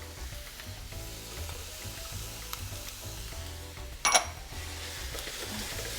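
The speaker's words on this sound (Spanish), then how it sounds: "Ahora voy a agregar el ajo." Garlic sizzling in a pan with sesame oil, chicken breast and bacon, a steady frying hiss with a brief sharp clatter near the end, and no voices.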